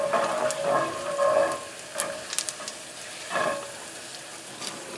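Moose meat fries in hot oil in a pan, a soft steady sizzle broken by scraping, clattering stirs of a utensil, close and moderately quiet, with no talking.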